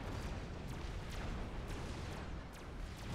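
Distant T3 artillery shells burst one after another in a Supreme Commander battle, a faint, rumbling stream of repeated booms with sharp cracks spaced through it, and no speech.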